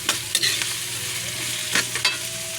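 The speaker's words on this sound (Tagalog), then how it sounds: "Sarap kasi kapag ginigisa, lalo pagka isda, para medyo mabuwasan yung lansa." Chili, onion, ginger and tomato sauté in hot oil for salmon head sinigang, giving a close, steady sizzle broken by a few brisk scrapes of a stirring utensil against the pan.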